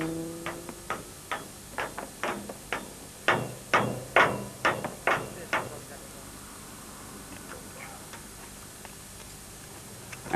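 Hammer blows on the damaged rear hub of a BMW rally motorcycle during the 2006 Dakar, about a dozen sharp metallic strikes in a quickening rhythm, close and loud, then fading to quiet.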